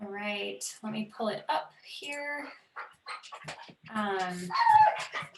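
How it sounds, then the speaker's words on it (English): A dog barks and whimpers at home during an online public commission meeting. Short yips and whines come from the background while someone talks over them. "Sorry, that's my dog again."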